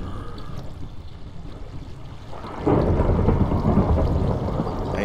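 Thunderstorm in the Minecraft video game: steady rain hiss with low rumbling, then a sudden louder roll of thunder that swells and stays heavy to the end.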